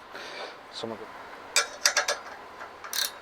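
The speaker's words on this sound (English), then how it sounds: "I like these ratcheting wrenches. They're really handy." A ratcheting wrench clicks in a few short, close bursts of metallic ratcheting while working on a heavy hitch disc cultivator, with brief pauses between the bursts.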